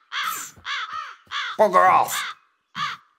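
Crows caw in the survival video game Survival Camp, a string of harsh, loud, close calls in short bursts, with a voice muttering briefly among them.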